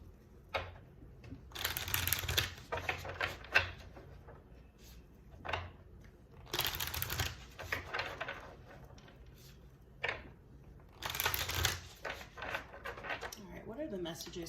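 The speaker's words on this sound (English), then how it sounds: "So I'm just going to give these cards a few shuffles." Bursts of tarot cards being shuffled, crisp riffling flutters in three or four rounds with pauses between, close and fairly loud.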